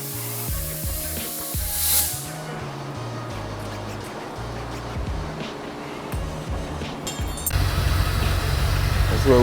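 An abandoned Corvette left for three years cranks over with a rhythmic starter chug, then catches and runs with a loud, rising engine roar near the end, with voices in the background.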